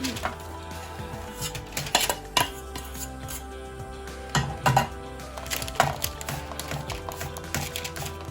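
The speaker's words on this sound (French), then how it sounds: "Je mélange maintenant le beurre fondu avec les spéculoos" Melted butter being mixed into crushed speculoos biscuit crumbs in a bowl, with irregular bursts of spoon clinks and gritty scraping against the bowl, close by.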